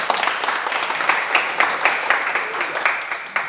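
Audience applause at a parenting talk on conversation between parents and children, a dense steady crackle of many hands clapping together for a few seconds, fairly loud and close, with no talk over it.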